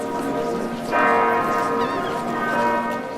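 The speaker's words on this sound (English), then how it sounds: "you can hear those same bells in the background every time Arya shares a scene" Church bells clang steadily with rich ringing overtones, a louder peal swelling after the first second, heard at moderate distance over a faint background hum.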